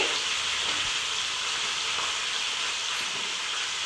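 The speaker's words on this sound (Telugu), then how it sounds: "వేసుకొని వీటిని కూడా బ్రౌన్ కలర్ దాకా వేయించాలి" Chillies, curry leaves and garlic cloves fry in hot oil with a steady, dense sizzle that holds close and even throughout, with no voices over it.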